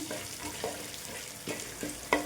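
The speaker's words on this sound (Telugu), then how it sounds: "మంచి కరివేపాకు కూడా చిట్పట్లాడేంత వరకు వేయించుకోవాలండి." Curry leaves fry in hot oil while a spicy puffed-rice mixture is being made, giving a soft steady sizzle broken by several sharp, scattered crackles and pops close by. No voices are heard.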